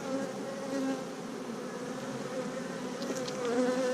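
Honeybees drone in a steady, dense buzz rising from an opened wooden hive of tightly packed Hoffman frames during an inspection, close and continuous with individual bees whining past now and then.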